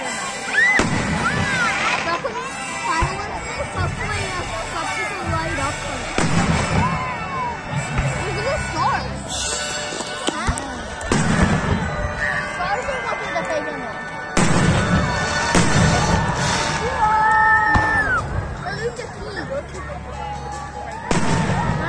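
Fireworks bursting at an Independence Day celebration in Manchester, with repeated loud booms and crackles arriving in irregular clusters over a steady crowd murmur, with people talking and exclaiming nearby.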